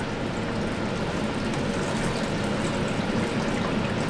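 Acid being poured carefully out of a 28 mL polycarbonate tube in a trace-metal cleaning lab, a continuous close liquid gushing and splashing wash that stays fairly even throughout.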